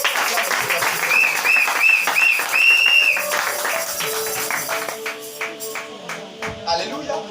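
A church congregation bursting into applause and clapping, loud and close at first with a sustained cheer-like tone riding over it, then thinning out over the second half as voices carry on beneath.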